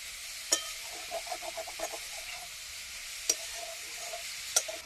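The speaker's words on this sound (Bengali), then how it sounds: "এবার নাড়াচাড়া করে একটু ভেজে নেব" Cauliflower seasoned with salt and turmeric stir-fried in a pan for gobi paratha filling, a soft steady sizzle broken by a few sharp spatula scrapes and clinks, close and fairly quiet, with no talking.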